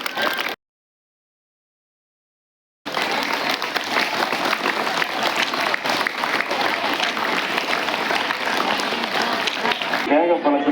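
An audience claps steadily at a felicitation during an International Yoga Day event held by a hospital in Salem, with dense, sustained applause following a brief silence and voices faintly mixed in.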